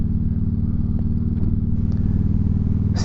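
A motorcycle rumbles steadily along a road on a ride toward Kansas, its engine a loud, continuous low throb close by with a faint wind rush over it.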